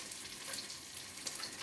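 Meatballs fry in a pan over high heat, giving a faint, continuous hiss and crackle that stays even throughout with no voices.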